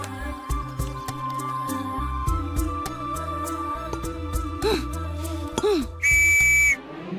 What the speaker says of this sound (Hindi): अभी गलती की सीटी बजा दी।